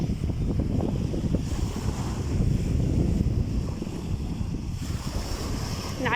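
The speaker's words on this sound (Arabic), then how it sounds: "الصوت صراحه الصوت البحر كيريح بزاف" Sea waves washing onto a beach near Tetouan, a continuous broad surf roar with gentle swells and wind noise on the microphone, steady and fairly loud with no talk.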